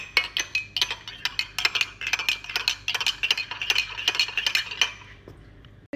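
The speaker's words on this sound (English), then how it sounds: "And give it a nice stir." A spoon stirs hot chocolate made from Nesquik powder in a mug, producing a quick, rhythmic series of close, bright clinks against the sides that runs steadily for several seconds before stopping.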